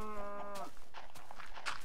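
A cow on a video game farm gives one short moo at the start, followed by soft shuffling and low background noise.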